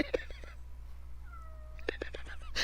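A cat meows repeatedly in a warm, quiet indoor room, its cries sounding drawn-out and distressed, close by over a low steady background hum, with a brief faint voice in the room.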